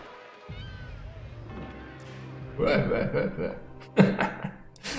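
A cat meows a few times close by, with short chirpy calls and a hiccup-like sound. Background game sounds and some vocal noises run underneath.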